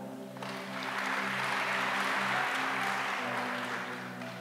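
Congregation applause at a men's church camp service, steady broadband clapping that swells and holds for several seconds over sustained tonal music, with no talking.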